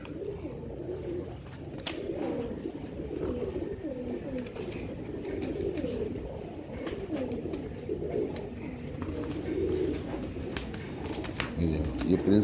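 Pigeons in a loft coo in repeated low, throaty rolls, several birds overlapping close by, with someone talking over them and a brief rustle near the end.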